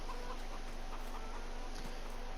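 Chickens cluck softly in a farming video game, faint repeated clucks over a steady background hum, with no talking.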